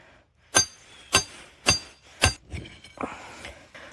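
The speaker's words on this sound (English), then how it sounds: "hammer this down all the way." A hammer striking a metal driver to stake a foothold trap into the ground: four sharp, evenly spaced metallic blows, close and loud, followed by a few lighter knocks and scrapes.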